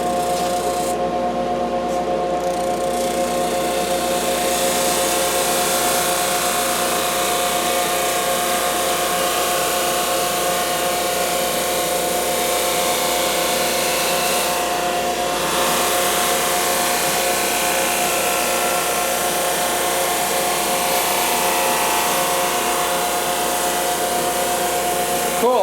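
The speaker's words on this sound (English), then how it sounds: "Now it's not a finished sander because it rotates in a linear fashion" A homemade linear sander runs continuously with a steady, loud mechanical whir and a buzzing tonal hum, alongside a workshop dust collector, with no breaks and no talking.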